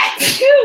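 A single sneeze bursts out during a live sports talk broadcast about a Cowboys game, loud and close, with a short voiced trailing sound at the end.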